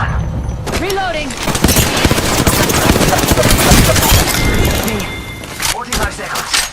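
Dense bursts of rapid gunfire from an Apex Legends match, with overlapping automatic volleys and sharp reports filling most of the stretch, loud and close, with a voice heard briefly over the shooting.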